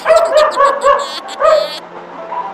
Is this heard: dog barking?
yes